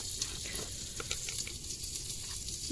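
Garlic fries gently in a covered pan, giving a steady, even sizzle with soft crackles throughout, close and continuous, with no talking.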